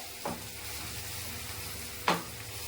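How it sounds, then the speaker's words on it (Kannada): Garlic ginger paste for pav bhaji fries in a pan with a soft, steady sizzle. Two brief stirring scrapes come a couple of seconds apart. "ಇದು ಕುಕ್ ಆಗ್ತಾ ಬ್ರೌನಿಶ್ ಆಗ್ತಾ ಬಂದಿದೆ."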